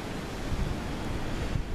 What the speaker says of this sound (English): And it's getting windy out.